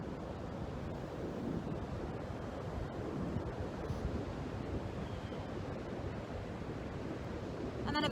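Ocean waves wash onto the shore in a continuous, even roar of surf, steady and fairly full throughout with no voices over it.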